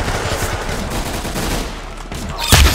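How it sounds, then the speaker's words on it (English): Gunfire in the Roblox Arsenal game: rapid, close bursts of shots crackle continuously over a dense mix of game noise, ending in a louder, punchier shot. "Very good shooting"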